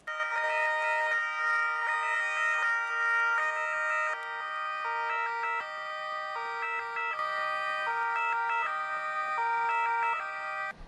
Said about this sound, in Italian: L'omaggio con le sirene spiegate delle auto d'ordinanza